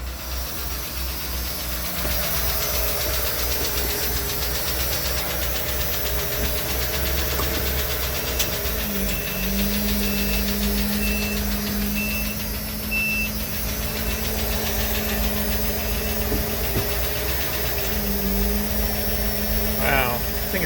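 Ford Econoline van engine idling steadily after an EEC repair, a constant medium-loud rumble with a faint ticking knock, while someone speaks now and then over it.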